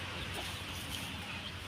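A sick hen clucking softly and steadily at close range, with no talk.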